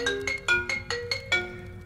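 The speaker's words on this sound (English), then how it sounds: "Liu Kang gets a phone call." A cell phone ringtone in a Mortal Kombat 1 fan story plays a rhythmic run of bright electronic tones, about six evenly spaced bursts, clear and close with no talk.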